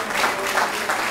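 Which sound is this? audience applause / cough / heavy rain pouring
audience applause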